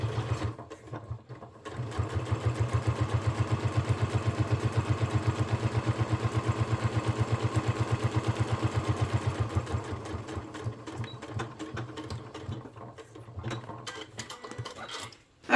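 A sewing machine stitches a fanny pack in one sustained, evenly rhythmic run of rapid needle strokes lasting several seconds, close and clear, then slows to scattered clicks and handling sounds.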